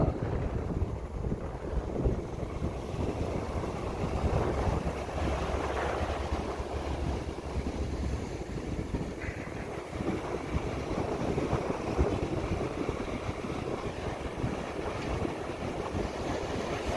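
Steady outdoor wash of small waves and wind with a low engine rumble of fishing boats heading out offshore, continuous and fairly even throughout.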